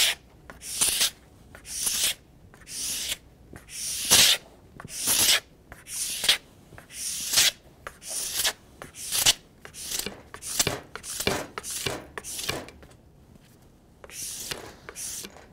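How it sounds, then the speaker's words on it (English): A plastic scraper takes wax off the base of a ski, rhythmic rasping strokes close by, about fifteen evenly spaced scrapes with short pauses between them, no talking. "I want to scrape off as much wax as I can"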